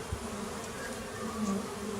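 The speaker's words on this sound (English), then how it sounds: "we've got some very confused bees indeed." Bees disturbed in a brickwork nest buzz steadily and continuously throughout, a close, low droning hum with no voices.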